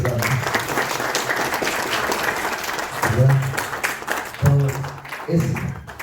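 Audience clapping at an engagement ceremony, steady applause running throughout, with voices talking over it and a few louder bursts of speech.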